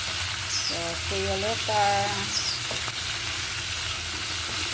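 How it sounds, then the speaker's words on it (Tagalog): Chicken pieces for adobo sautéing in a pan with a constant, close sizzle and occasional stirring, while a brief voice speaks over the frying. "Gisa muna natin ng konti until golden brown again."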